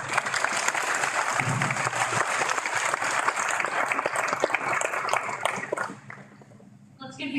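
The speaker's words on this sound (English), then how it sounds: "Let's give these gentlemen one big round of applause again." An audience gives the gentlemen a long round of applause, dense and steady clapping that carries for several seconds before thinning out, followed by a brief spoken voice.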